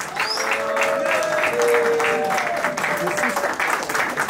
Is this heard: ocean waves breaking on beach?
no